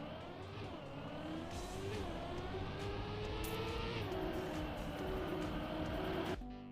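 Racing car engine in the Trackmania video game, loud and continuous, its pitch rising and falling as the car brakes for a corner and accelerates again, then cutting off abruptly at the end.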